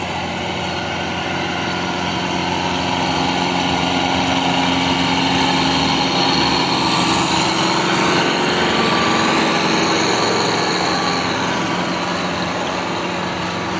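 A tractor engine runs steadily while working a field with a harrow, giving a loud, continuous, close drone with a rough low rumble that holds even throughout, with no voices.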